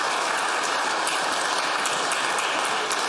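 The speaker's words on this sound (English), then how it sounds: "If you could please rise and accept the warm applause from this group." An audience applauds in the chamber of the Legislative Assembly of Alberta. The clapping is dense and steady, with no voices over it.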